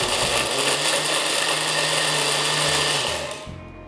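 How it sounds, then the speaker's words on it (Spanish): A blender grinds small pieces of dried meat, a loud, steady high-pitched whir that runs continuously before winding down at the end. "ponemos los pedacitos en la licuadora de esta manera y lo hacemos acá"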